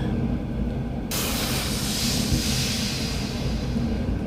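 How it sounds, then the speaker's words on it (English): Compressed air blasts through the fuel line of a 1997 Yamaha Vmax 600 snowmobile that is plugged with oil, a sudden loud hiss that starts abruptly and holds steady over a low rumble. "I just blew air into the tank."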